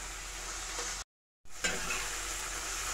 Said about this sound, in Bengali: এখন টমেটোগুলোকে ভালোভাবে মশলার সাথে কষিয়ে নেব, যতক্ষণ পর্যন্ত না টমেটোগুলো গলে যাচ্ছে